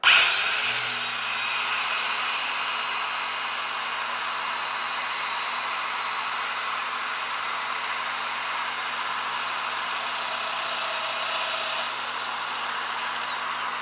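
A power mortising tool cuts a mortise in wood, giving a continuous high-pitched motor whine with a steady cutting buzz that starts abruptly and holds for the whole stretch.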